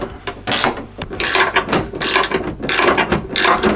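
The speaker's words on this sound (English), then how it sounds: "We just have to put the bolt back on." Ratchet tightening a bolt back on a 2024 Tesla Model Y taillight, rapid clicking bursts in repeated strokes, close and clear with no talking.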